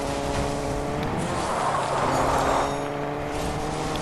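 A car drives and skids in a video game, with a steady engine drone and a swelling tire squeal midway, close and continuous without talk.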